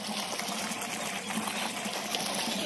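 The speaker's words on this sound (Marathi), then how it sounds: "आणि मोटर चालू झाली. पाणी सोडले आता गिनीगोलावर." An electric water pump motor runs on a village farm while water gushes out to soak guinea grass fodder, making a steady, close, unbroken rushing hum with no talk over it.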